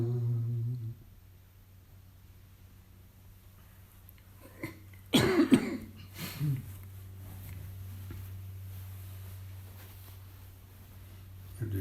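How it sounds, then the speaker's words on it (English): A man with a lingering cold coughs a few times in a quiet room, a short cluster of dry coughs around the middle with a low steady hum beneath and faint breathing before and after. "You have to excuse my little coughing from time to time"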